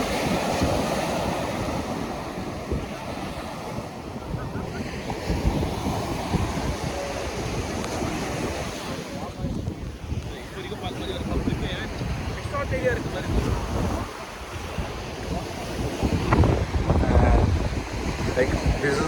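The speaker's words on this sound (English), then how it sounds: "This is the Marina beach, Chennai right now." Ocean surf rolling onto Marina Beach in Chennai, a steady wash of breaking waves mixed with heavy wind buffeting the microphone, with faint background voices now and then.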